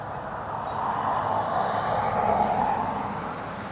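An ATR turboprop airliner departs Dublin Airport on a windy day, a moderate, distant droning hum that swells slightly then eases, steady and alone.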